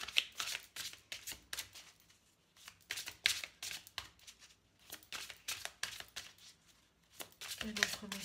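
Oracle cards are shuffled and drawn from a deck in a run of crisp, papery flutters and riffles, close and soft, with brief pauses and a voice speaking quietly at times.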